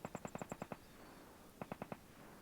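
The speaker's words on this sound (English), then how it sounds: "Now, I'm hearing gunshots." Distant gunfire in the survival video game Vigor comes as a rapid burst of about seven shots, a pause, then four more, faint and far off over a quiet background.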